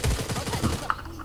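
Gunshots in a shooting video game come as a short, rapid rattle of low thuds, close and fairly loud, then cut off within about a second.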